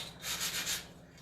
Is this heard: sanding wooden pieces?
yes